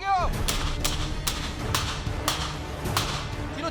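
Rapid gunfire from soldiers of a special forces regiment during an infiltration assault drill, with about eight sharp cracks in an uneven burst, loud and close, over faint background noise.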